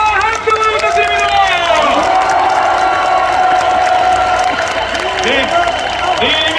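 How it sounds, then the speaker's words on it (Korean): A big crowd cheers and claps for a presidential candidate at an outdoor political rally in Yeouido, Seoul, with loud continuous roaring, whistles and shouting voices over steady applause. "대통령 이재명 후보에게 큰 박수와 함성을 부탁드립니다."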